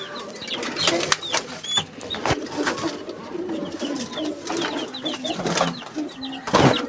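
Chapra pigeons coo repeatedly in their loft setup, with steady soft cooing, occasional wing flaps and faint chirps throughout.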